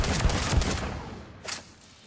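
The Phalanx pistol in Mass Effect 3 fires rapidly, a quick burst of loud, close shots blending into one another, then a final shot and a short decay.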